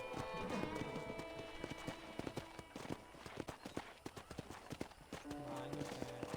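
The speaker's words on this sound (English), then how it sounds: "I picked out a fine horse for you." Horse hooves clip-clop on a ranch property in Red Dead Redemption, a steady run of hoofbeats near and fairly clear, mixed with game ambience and background music, while a voice talks over parts of it.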